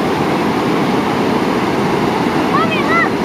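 Big ocean waves crash on the beach at Roads End, Lincoln City, a steady loud roar of surf with no break, and a faint high voice briefly rising near the end.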